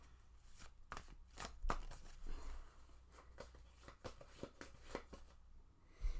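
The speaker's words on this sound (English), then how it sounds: "I'm shuffling the wrong cards." Tarot cards being shuffled by hand: a quiet, irregular run of soft riffling clicks and slaps that continues throughout, with brief pauses.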